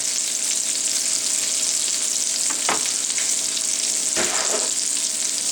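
A milk, flour and butter sauce for homemade mac and cheese cooks in a pan, a steady bright hiss with two brief scraping strokes of stirring partway through, close and fairly loud, no talking.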